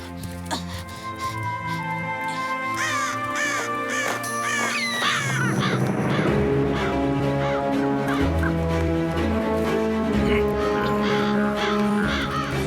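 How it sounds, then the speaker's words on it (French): Cartoon crows caw repeatedly and loudly in a flock, their harsh calls layered over a full orchestral score with no talking. "Allez, oust les oiseaux! Saleté de corbeau."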